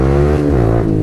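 A new motorbike engine revs loud and close, a steady harmonic drone whose pitch dips and rises briefly within one second.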